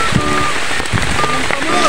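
Steady rain pours onto surfaces outdoors in Bato, Camarines Sur, a dense close hiss of drops that persists throughout, with voices faintly audible beneath it.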